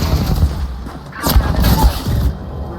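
Gunfire in the video game Titan Halo, dense rumbling bursts and booms in a continuous loud barrage with a swell of blasts mid-way, game sounds filling the whole stretch.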